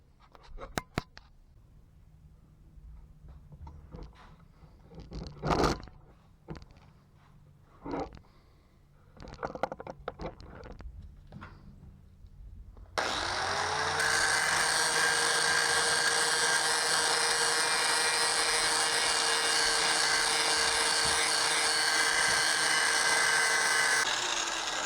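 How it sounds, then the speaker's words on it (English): After several seconds of scattered knocks and handling, a 4-inch wide belt sander starts grinding a double bit axe, a loud, steady abrasive whine with a low motor hum that runs continuously to the end. "4-inch wide belt sander in that mount. That hopefully we can put a nice edge on here"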